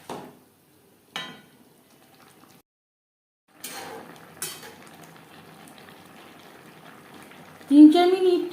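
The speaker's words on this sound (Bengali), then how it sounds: "ব্রকলির সাথে পনির বেশ ভালো করে মিক্স করে দেবো।" Fried paneer being stirred into cooked broccoli in a pan, with a few sharp spoon scrapes and clinks, then a steady low sizzle that swells loudly near the end.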